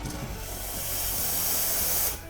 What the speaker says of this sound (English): that's actually going to start the steaming process